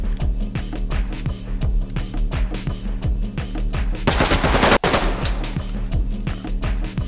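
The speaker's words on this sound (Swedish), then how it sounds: "Eldgivning från gården." Rapid bursts of gunfire in the video game Ready or Not, sharp repeated shots in quick rhythm with a louder burst of firing near the middle, loud and close.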